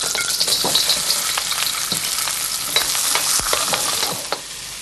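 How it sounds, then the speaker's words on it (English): Mushrooms stir frying in a pan, a steady close sizzle with scattered clicks and scrapes from stirring, running evenly and alone throughout. "we fry, we stir fry."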